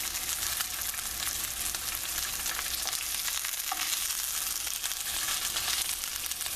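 A cornstarch and sherry sauce for Cantonese-style lobster and shrimp bubbles and sizzles in a hot pan, a steady close crackle with faint stirring knocks and no talking.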